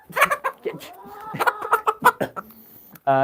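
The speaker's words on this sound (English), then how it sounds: "My chickens go crazy for corn." Several chickens cluck and squawk close by in a coop while being fed corn, in an irregular, excited chatter, with a sharper call cutting in at the end.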